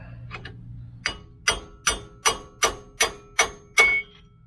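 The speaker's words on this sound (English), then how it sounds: "kind of give this axle a tap and see if we can get it out" A hammer strikes the rear axle of a Lincoln Town Car during a bearing replacement, delivering about nine sharp metallic taps at a steady, evenly spaced rhythm, close and clear, with a ringing final hit.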